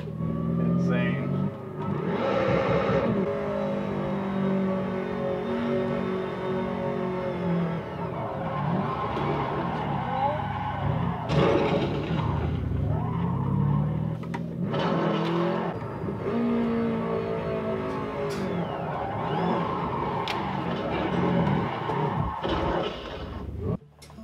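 A car in a PC racing sim is driven with a homemade handbrake, with a steady loud engine drone, shifting pitch, and bursts of tire noise as the rear locks up, while someone talks over it.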